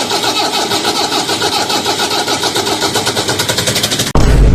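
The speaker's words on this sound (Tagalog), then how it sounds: "ayaw ba mag-start ng makina?" An abandoned truck's engine cranks with a rapid rhythmic starter chug for about four seconds, loud and close, then abruptly catches and bursts into a rough roaring run.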